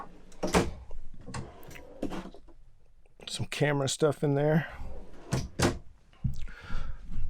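Drawers in a 2018 Adventurer RD19 Class C RV being slid open and shut, several sharp wooden clacks and thuds close by, with a person talking between them.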